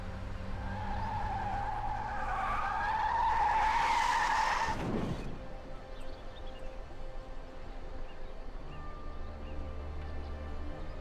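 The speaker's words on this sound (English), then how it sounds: "Brake! Hit the brake!" Tyres squeal in a long, loud skid as a car brakes hard in the Mafia video game, the screech rising and peaking near the middle before cutting off, with engine and ambient game noise continuing afterward.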